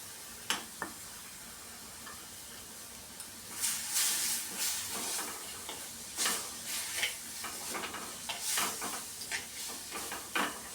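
Finely chopped tomato and kokum go into a hot pan for a Kerala fish curry and sizzle with a soft, steady hiss, broken by light taps and bursts of stirring, close by and with no one talking.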